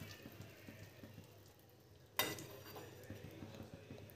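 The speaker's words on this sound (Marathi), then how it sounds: "आता हे छान फ्राय करूया, आपण भाजून घेऊया" Semolina (rava) roasts in ghee in a pan for ladoo, giving a faint steady sizzle. It grows louder after a sharp clatter partway through.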